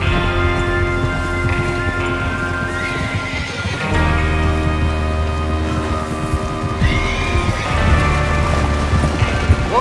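Horses in the Red Dead Redemption 2 video game whinny and neigh over hoofbeats and the steady music and ambience of the game, loud and continuous.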